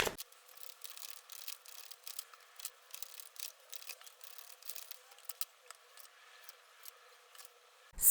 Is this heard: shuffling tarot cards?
yes